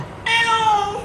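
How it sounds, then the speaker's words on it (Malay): A single short, high meow starts abruptly and holds briefly, clear and close. "Betul lah bunyi kucing."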